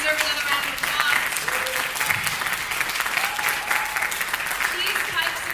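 An audience applauds at the end of a trombone choir concert, a loud, dense and sustained round of clapping, with a voice faintly audible beneath it.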